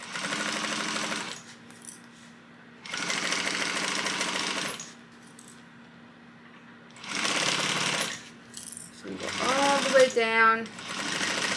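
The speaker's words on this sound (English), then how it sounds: "we are going to stitch this at that 3/8 of an inch seam allowance" Sewing machine stitching a seam at a 3/8-inch allowance, running in several loud steady bursts of a few seconds each, separated by pauses where a voice talks quietly over a low hum.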